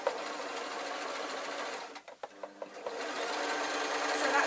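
A sewing machine runs steadily stitching a lined waistcoat with a collar, a rapid even whir that pauses briefly into a few short bursts and clicks before resuming at full speed, close and clear.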